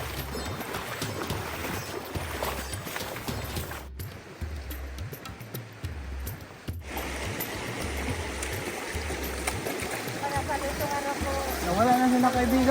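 A river in Mindoro rushes and splashes steadily, with a brief quieter gap partway through and low engine rumble beneath.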